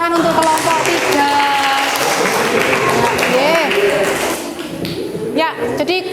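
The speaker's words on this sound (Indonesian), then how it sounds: "tepuk tangan untuk kelompok 3." Brief clapping from a classroom group, uneven and tapping, mixed with talking voices and a faint squeak, fading after a few seconds.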